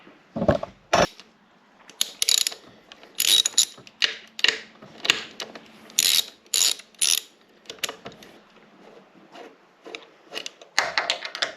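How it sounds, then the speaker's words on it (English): Two 10 mm bolts are removed from a 2022 Yamaha T9.9 hp kicker outboard with a ratchet, giving loud close bursts of rapid clicking in short repeated runs. "To take this off, you have two 10 mil bolts just inside here that you have to take off."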